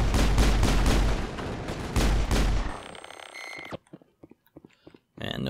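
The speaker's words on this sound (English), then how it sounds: "Definitely still a sniper out there." Dense, rapid volleys of rifle fire from the Mass Effect video game crack out loudly for nearly three seconds, then give way to a few sparse, sharp shots and brief clicks before another loud burst at the end.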